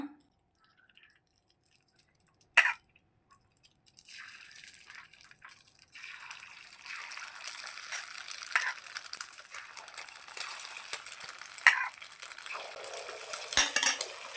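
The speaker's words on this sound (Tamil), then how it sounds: "எண்ணெய் நல்லா ஹீட் ஆனதுக்கப்புறமா நம்ம கலக்கி வச்சுருக்கிற முட்டையை கொஞ்சம் கொஞ்சமாக ஊற்றி எடுத்துக்கலாம்." Beaten egg is poured into hot oil in a paniyaram pan and starts to sizzle, a soft, steady crackling frying hiss that builds and continues with a few light clinks of utensils.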